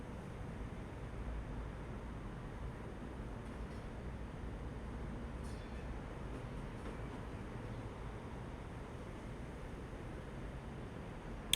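Steady low rumble of a train rolling along the rails in Train Life Simulator, a continuous broadband drone that holds even and unbroken throughout, with no voices over it.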